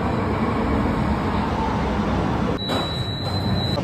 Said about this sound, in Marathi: तिकडे ट्रेन आली आहे.